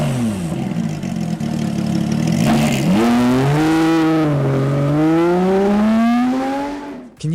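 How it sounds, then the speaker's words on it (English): A Porsche's 500-horsepower 4-liter flat-six engine revs up loudly and climbs steadily in pitch, a roaring, rising wail close to the listener before cutting off. "this black beauty roared onto the scene with a 500 horsepower 4-liter flat-six engine"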